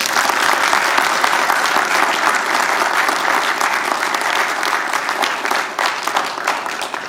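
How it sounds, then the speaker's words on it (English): An audience at a university educator-preparation launch event gives faculty members a loud, continuous round of applause, dense clapping that eases slightly toward the end. "I want to give these faculty members, these leaders in our community a great round of applause"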